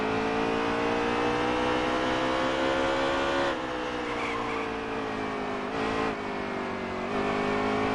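Race cars lapping the Bristol track, a loud, sustained engine drone with steady rising pitch that shifts abruptly as the cars change gear, continuous and close throughout.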